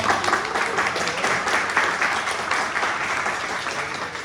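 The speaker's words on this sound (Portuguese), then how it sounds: "Gente, palmas para Heraldo Guerra." An audience at a hackathon pitch event applauds Heraldo Guerra, a continuous, fairly loud wash of clapping from many hands.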